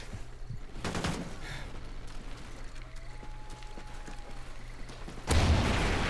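Video game gunfire, faint rapid bursts scattered through the clip, building to a louder burst of shots near the end, with little talk.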